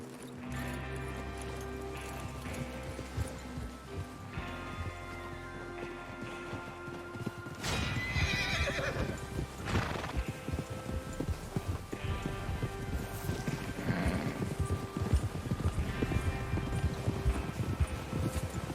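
Horses in a Red Dead Redemption 2 outlaw camp stamp and clop their hooves as they are readied to ride out, a steady busy clatter over low ambient music that grows denser halfway through, with the occasional snort or whinny.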